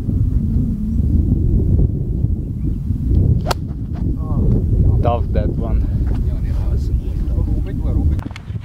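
Strong wind gusting across an open golf course roars steadily into the microphone, with a sharp crack of a golf shot partway through and voices talking over the buffeting.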